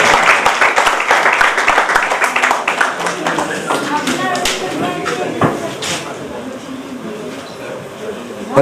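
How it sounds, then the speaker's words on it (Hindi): An audience claps at an event in Darbhanga, with sharp individual claps up front that blend into a looser, fading round of applause, while voices carry in the background. "इतनी तालियां दे, तालियां कम पड़ जाए।"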